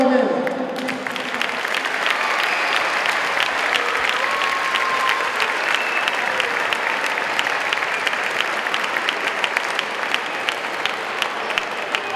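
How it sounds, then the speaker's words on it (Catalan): Loud, sustained applause fills a sports hall in Benicarló at a basketball team presentation, steady clapping from a large crowd with no talk over it. "Demano, per favor, per a tots ells, un fort aplaudiment."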